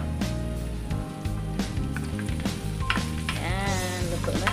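Chicken breast sizzling loudly in a pan with curry paste, a steady close crackle of frying with scattered pops and occasional stirring scrapes throughout, no talking.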